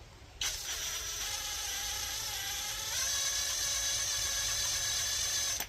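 A Predator 212 engine fitted to a John Deere 110 tractor runs at low RPM, a steady close mechanical whine with a slight rise partway through and a constant drone underneath.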